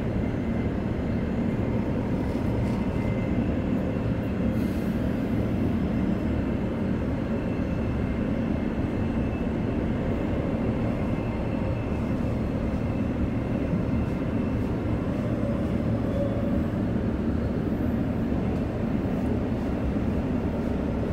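Steady, unbroken rumble and hum from inside a Transperth MAN B-series electric train, unit 5076, running from Mandurah toward the city, with a continuous low drone and faint high whine throughout.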